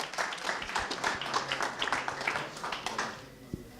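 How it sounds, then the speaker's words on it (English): A crowd claps at a cryptocurrency convention in Europe as a software developer is welcomed to the stage, moderately loud and continuous for several seconds, then tapering off with a final low knock. "please give a warm welcome applause again for the developer of Dash Drive"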